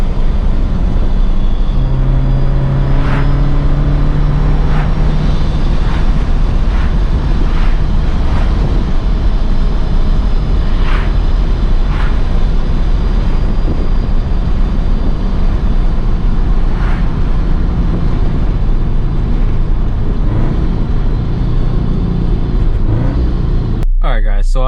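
A supercharged Subaru BRZ on the stock cat-back exhaust drives a backroad, giving a subdued, continuous engine drone and road rumble with occasional clicks, and a sharp burst right at the end.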